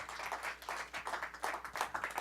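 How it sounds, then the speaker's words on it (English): Audience at an evening economics seminar on complexity in New York applauding, a faint, steady patter of many hands clapping throughout. "Give a round of applause."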